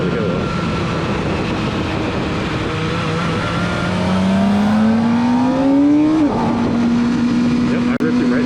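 Revving hard in second gear, a Kawasaki Ninja ZX-4RR motorcycle pulls away under acceleration, its engine pitch climbing steadily before a gear change, loud and close under wind noise and rider talk.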